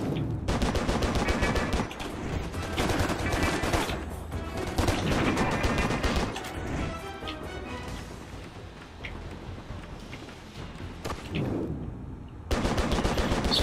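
Sniper and automatic gunfire from the video game Stranglehold crackles in dense, overlapping bursts for most of the stretch, loud and continuous with a brief lull before a final volley.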